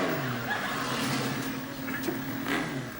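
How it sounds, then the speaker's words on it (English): A motorbike engine revs steadily and fairly loud, a throaty rumble holding for a few seconds with slight swells, heard alone without talk. "it sounds like old Bristow on his motorbike"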